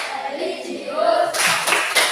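Schoolchildren in a classroom chant together, then break into a rhythmic group clap of three or four sharp, loud bursts spaced a fraction of a second apart, close and filling the room.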